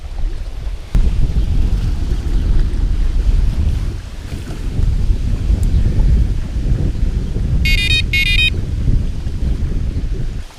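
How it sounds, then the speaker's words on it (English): Strong wind of roughly 10 to 15 mph blows onto a lake shoreline, roaring steadily into the microphone with low rumbling gusts throughout, while a faint brief chirping sound appears near the end. "The wind is blowing into this shoreline probably 10 to 15 miles an hour is what it feels like."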